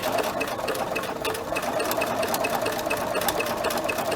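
Sewing machine stitching a triple zigzag stitch on a piece of fabric, a steady close mechanical whir with fast rhythmic needle clatter running continuously without pause.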